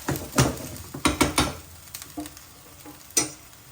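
Bangladeshi kala bhuna black beef curry frying in a pot, with a spoon stirring it in scattered scrapes and clinks over a soft sizzle. It is close and moderately loud, with a sharp knock near the end.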